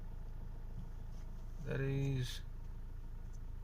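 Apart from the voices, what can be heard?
Tata Harrier SUV engine idling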